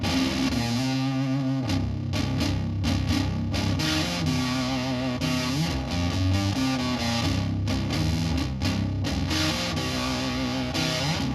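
Bass guitar played through The Deep effects pedal at an average setting, giving a heavily distorted, effected tone with sustained notes and rhythmic phrases that carry steadily and loudly for about eleven seconds, with no voices.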